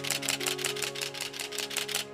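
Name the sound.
Canon DSLR shutter firing in high speed continuous mode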